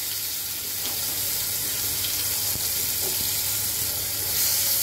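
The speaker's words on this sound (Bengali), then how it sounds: "পেঁয়াজটাকে একটু সুন্দর করে ভেজে নেব।" Onions and bay leaves fry in oil left over from frying fish, giving a close, steady sizzle that holds at an even level throughout, with no voices.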